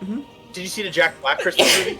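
A single sharp human sneeze bursts out close by, set among casual conversation, with another person speaking just before and after it.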